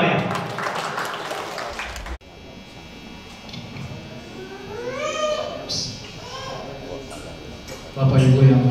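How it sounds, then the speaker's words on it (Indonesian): Audience at an anniversary ceremony for a Dumai humanitarian organisation applauds in a hall, a sustained wash of clapping under voices and a sung or chanted passage, swelling louder near the end. "Kita beri tepuk tangan yang paling meriah."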